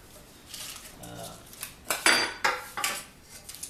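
Metal cake pans being handled and stacked, several sharp clanks and scraping knocks in an irregular sequence, close by.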